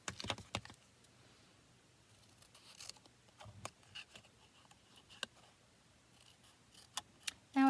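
Cardstock for a handmade birthday card is trimmed with a paper trimmer, giving a few sharp close clicks and slicing ticks spread across near silence, with no speech.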